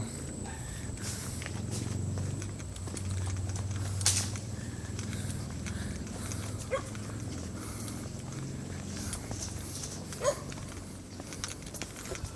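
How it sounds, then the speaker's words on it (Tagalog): Dogs bark around an outdoor camp. The barks are faint and distant, mixed with footsteps and steady open-air background noise. "May mga makukulit na aso doon, pero ganyan-ganyan lang yung mga yan, kahul-kahul lang"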